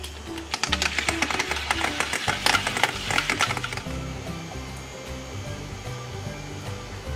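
A blender whirs and rattles as it mixes a piece of grape with water, with a buzzing motor and busy clattering for about three seconds. The sound then drops to a quieter, steady hum.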